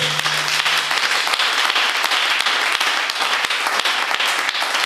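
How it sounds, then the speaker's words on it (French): Church congregation applauding after a call to cheer for the Lord during a French sermon: sustained dense clapping from many hands, steady and fairly loud throughout, with no talk over it. "Est-ce qu'on peut acclamer pour le Seigneur?"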